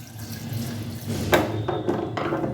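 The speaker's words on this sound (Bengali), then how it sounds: "অল্প জল দিয়ে দিচ্ছি" Water poured into a pressure cooker holding jackfruit seeds: a steady splashing, running flow with a few brief gurgling pulses toward the end, close and alone.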